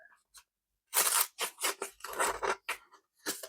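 A sharp Ozark Trail 2-in-1 knife blade slicing through paper in a series of short, crisp rasping strokes, close and fairly loud, with brief pauses between cuts.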